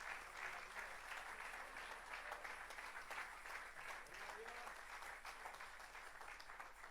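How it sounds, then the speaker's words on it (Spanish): A church congregation gives strong applause, steady and fairly distant, with many hands clapping together at an even level and faint voices underneath. "Le damos un fuerte aplauso a él, aleluya."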